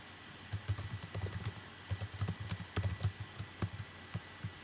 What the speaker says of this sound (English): different types of sounds as you're typing